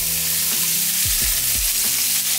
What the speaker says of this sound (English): it is time to now add your veggies back in.